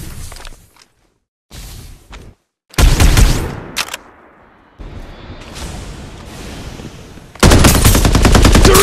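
Rapid automatic gunfire and bursts of shots in the battle game Farlight 84, loud and close, broken by short gaps and whooshes, ending in a dense sustained volley.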